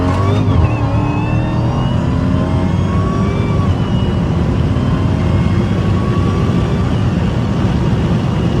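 Dodge Hellcat accelerating hard at night, a loud continuous engine roar with rising tones as it pulls through the gears, close and steady with heavy wind noise throughout.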